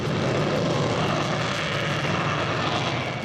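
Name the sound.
fighter jets roaring over the desert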